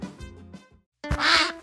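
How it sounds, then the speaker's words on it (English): A cartoon duck quacking in an animated animal soccer game, a few short nasal quacks followed by a louder, longer excited quack, alone and close. "The duck is very happy to see them back."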